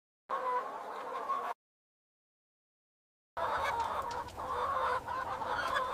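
Broiler chickens clucking inside a large automated poultry factory, a dense, steady chorus of many birds close by, heard in two bursts separated by a stretch of silence.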